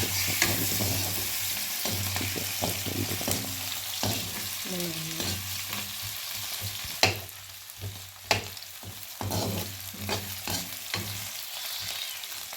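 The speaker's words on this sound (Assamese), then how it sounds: "পিঁয়াজ তেজপাত এয়া তেলত দিছোঁ" Onion and bay leaves, with ginger and garlic, frying in hot oil in a home kitchen: a loud, continuous close sizzle with crackling pops and a few sharp knocks of a stirring utensil.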